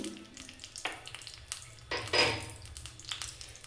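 Cashews fry in hot ghee in a pan with a close, steady sizzle, stirred so that a few scraping bursts rise above the hiss, with no talking.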